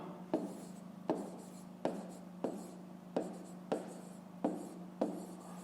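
Handwriting during a fifth-grade maths exercise, with a series of about eight quick pen or chalk strokes, each starting with a sharp tap and scratch, spaced roughly a second apart and heard close and clear over a low steady hum.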